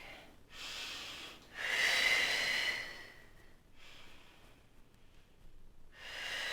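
Deep breaths during a Pilates curl-up with a small ball: two long airy inhales and exhales drawn close to the mic, then a third breath starting, with quiet gaps between and no talking.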